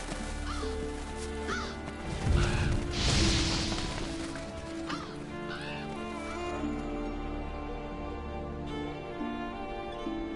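Revolture scavenger birds in Monster Hunter World give repeated harsh caws over a dense game soundscape, with a crashing thud early on and steady background music and ambience throughout.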